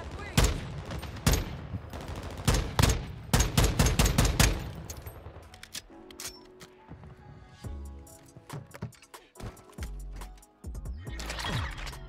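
Rapid, sharp rifle shots from an FTAC Recon in Modern Warfare 2 crack out in a quick, close string, then thin out into scattered shots and mechanical clicks before another loud burst at the end.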